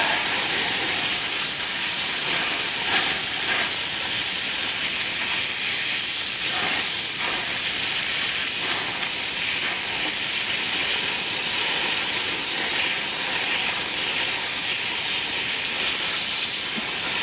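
Steak fat sizzles on a Weber grill set to full heat, a continuous, close, bright hiss that stays steady from start to finish.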